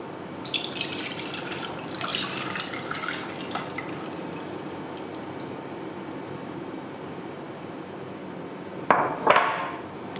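Palm nut soup liquid is strained through a sieve by hand, giving a steady wet swishing and trickling with scattered small clinks and a louder splashy scrape near the end.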